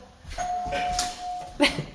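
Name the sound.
doorbell ringing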